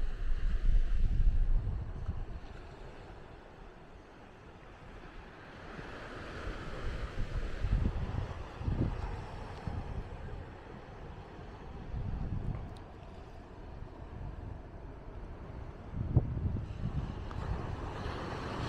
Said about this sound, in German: das hört man hier auch ganz deutlich, die Welle, wie sie hier ankommt.